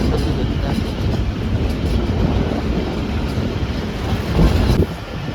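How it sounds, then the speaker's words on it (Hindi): The Pak Business Express passenger train rumbles steadily along the tracks with continuous wheel noise and a light clatter, heard from inside the train with a little wind buffeting and no talking. "खानेवाल जंक्शन पहुँच रही है 33 अब पाक बिजनेस एक्सप्रेस।"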